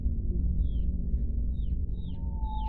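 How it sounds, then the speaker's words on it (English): Small bird chirps from an animal near a ranch, four brief high calls spaced across the clip over a steady low rumbling background, faint and somewhat distant. "I hear like a bird chirping."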